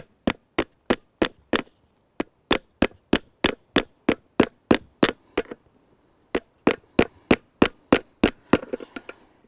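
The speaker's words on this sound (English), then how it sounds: "And I actually clinched that nail with a block and a hammer" Hammer striking a horseshoe nail against a clinch block while shoeing a horse: a long series of sharp, ringing metallic taps in quick even bursts, close and loud, with a short pause midway before the blows resume.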